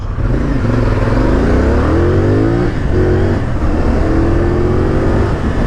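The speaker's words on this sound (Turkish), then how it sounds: "Motorun hızlanması gerçekten çok tatmin edici abi." A CF Moto 450SR motorcycle accelerates hard, its engine note rising steadily through the gears with brief dips at each shift, loud and close throughout with no talking.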